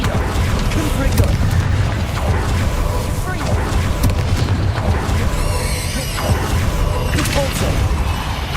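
A Confringo blast spell cast in Hogwarts Legacy erupts in a loud booming explosion, set within a continuous dense wash of crackling game combat effects and rumble.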